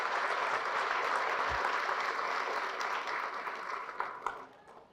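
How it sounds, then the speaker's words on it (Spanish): A church congregation gives loud, sustained applause during a Catholic priest's sermon, steady and dense before tapering off toward the end. "Fuertes aplausos al Señor por su amor y su misericordia."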